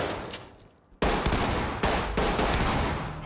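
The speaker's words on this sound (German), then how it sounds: "Okay, Schüsse." Video game gunfire cracks out in sharp bursts, a single early shot followed by loud, rapid volleys of nearby shots.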